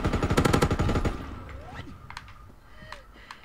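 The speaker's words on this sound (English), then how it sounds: "Dude, you're owning on that grease gun" A grease gun fires in Call of Duty WW2: one loud rapid automatic burst lasting about a second, then scattered distant shots and game effects.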